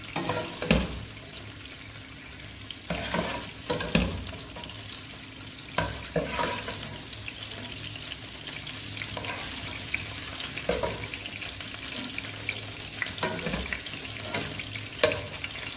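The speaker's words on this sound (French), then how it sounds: "Je réduis mon feu et je laisse cuire 10 minutes à feu moyen." Rice with shrimp and sausages cooking in a pan over medium heat, with steady sizzling and frying under repeated scraping stirs of a utensil at close range, no voices.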